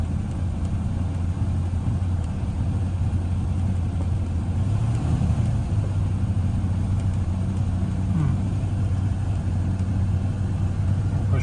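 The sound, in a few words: 1969 Rover P5B coupe engine idling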